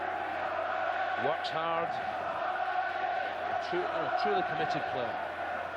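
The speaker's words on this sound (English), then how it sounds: "Tremendous applause." Football crowd applauding and murmuring at a 1999/00 Division Two match between Gillingham and AFC Bournemouth, a steady broad wash of noise running the whole way under a commentator's speech.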